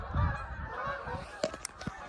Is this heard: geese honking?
yes